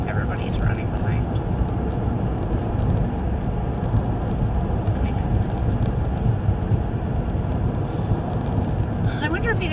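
Steady road noise and engine hum of a car heard from inside the cabin while driving, a continuous low rumble throughout with a voice talking over it.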